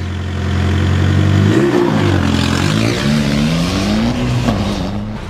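The diesel rally car from the MRC field, heard from inside the cabin during a 2007 rally stage: a loud, close engine drone that climbs through shifts, surging and falling as it accelerates.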